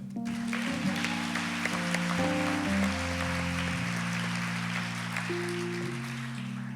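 A theatre audience applauds at a closing ceremony, a sustained rush of clapping under steady held tones from instruments or a drone that shift in pitch.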